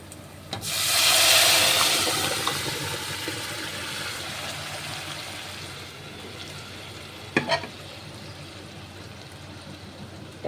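Turmeric-boiled dal is poured into hot oil seasoned with asafoetida, bursting into a loud, bright sizzle that slowly settles into a steady frying hiss, with a couple of sharp utensil knocks later on.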